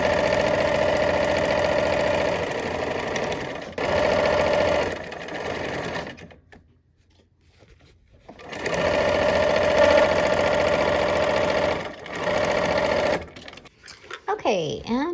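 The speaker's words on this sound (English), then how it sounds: "so let's go ahead and sew." A sewing machine stitches rows of a quilt block with a fast steady whirring drone, running in long bursts broken by a brief pause and a few short stops, with a voice talking at points.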